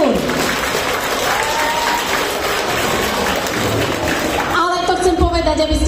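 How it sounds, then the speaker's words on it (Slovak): An audience applauds at a live outdoor singer's performance in a village setting, dense loud clapping throughout that thins toward the end as a voice speaks over it. "Takže toto si zaslúži potlesk."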